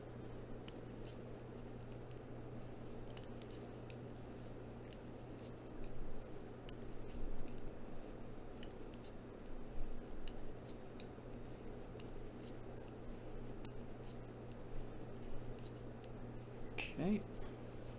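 Scissors snipping yarn during crochet or knitting, a few faint, sparse clicks over a steady low background hum.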